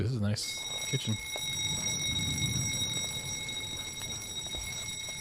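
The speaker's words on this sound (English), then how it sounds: "The rings are coming from inside the hotel." In the video game The Suicide of Rachel Foster, a high electronic ringing tone from a phone or alarm inside a hotel starts just after a brief spoken remark and keeps sounding steadily under faint background ambience.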